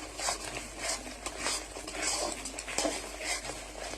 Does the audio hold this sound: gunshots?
no